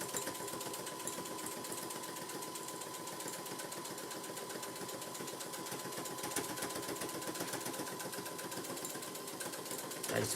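A sewing machine stitches a handbag seam with a steady, rapid mechanical chatter that runs unbroken throughout, close and fairly quiet, with no talking over it.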